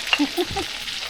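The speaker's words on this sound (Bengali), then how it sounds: "এইদিকে মাছ ভাজা হচ্ছে" Freshly caught pond fish frying in a pan during village cooking, a short close burst of crackling sizzle with a few stirring scrapes.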